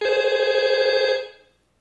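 A telephone rings once in a call center agent role-play on a TV variety show. The ring is a bright, warbling tone that lasts about a second before fading to silence, and no voices are heard.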